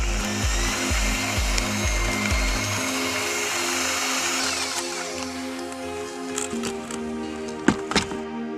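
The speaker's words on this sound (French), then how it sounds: "À l'aide du malaxeur, remuez minutieusement la matière minérale à l'intérieur du seau" A power paddle mixer churns two-component mineral mortar inside a bucket, a loud steady whirring drone with pulsing low thumps at first, then smoother, ending with a few sharp knocks.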